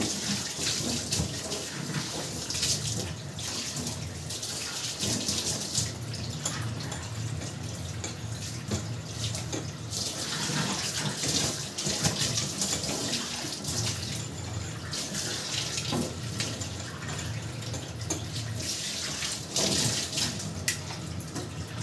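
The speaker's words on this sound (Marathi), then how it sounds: "थोडंसं साबणाचं पाणी भरून ठेवते." Water runs steadily from a tap into a container filling with soapy water, a continuous close splashing rush with slight fluctuations throughout.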